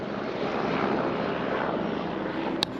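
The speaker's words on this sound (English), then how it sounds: "Helicopters." Steady broadband rotor-and-engine roar of a helicopter passing overhead, loud and continuous, with a brief sharp click near the end.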